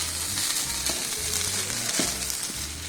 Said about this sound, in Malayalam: നമ്മുടെ റൈസ് കണ്ട ശരിക്ക് അത് ഫ്രൈ ആവുന്നതിൻ്റെ ഒരു ശബ്ദം കേൾക്കുന്നുണ്ട് കേട്ടോ.